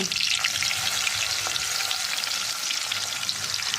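Chopped onion and garlic hit hot oil for a goat tripe fry, a loud, dense, continuous crackling sizzle close by, with an occasional faint tap of stirring and no speech.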